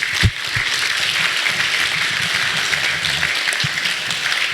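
A seminar audience gives a steady, dense round of applause for Lisa and Nicole, a continuous wash of clapping at moderate volume with a few louder thumps.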